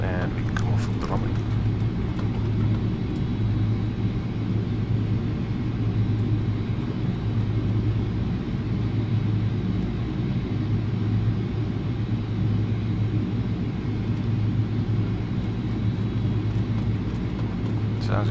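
An IniBuilds A300-600 airliner braking on the runway in X-Plane 11, a continuous low engine and rolling rumble that holds steady throughout, with someone talking over it.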